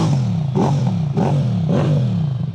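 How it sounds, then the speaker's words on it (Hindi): Three quick, sharp throttle blips rise from the steady idle of a high-compression 300cc V-twin motorcycle, each climbing and falling fast. The engine is loud and close, and nobody talks over it. "ये जो मैं थ्रॉटल दूंगा ना तो देखना थ्रॉटल रिस्पॉन्स,"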